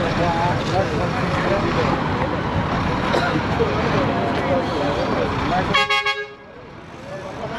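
A loud, sustained vehicle horn blares over busy traffic and voices, then cuts off abruptly, leaving quieter road noise.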